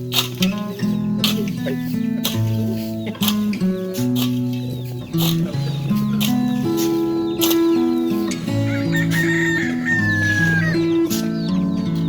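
Roosters crow repeatedly and hens cluck busily in a yard, loud and close, with overlapping calls throughout and faint voices in the background.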